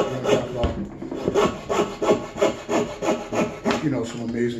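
A small handheld coping saw cuts through wood in a workshop with steady back-and-forth strokes, about ten rasping pulls in a regular rhythm, close and clear with no talk.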